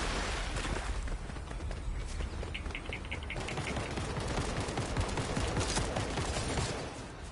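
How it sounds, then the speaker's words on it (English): Rapid gunfire in a Fortnite match, a dense sustained rattle of shots running steadily at moderate level with scattered sharper cracks throughout. "Oh, he's shooting at us."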